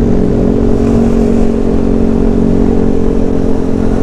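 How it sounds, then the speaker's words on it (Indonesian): Loud, steady engine drone from a bore-up Yamaha NMAX scooter with an aftermarket racing exhaust, a continuous throaty hum with stable tones and no talk. "cuma kali ini gue mau bikin knalpot ini lebih adem lagi, lebih silent lagi."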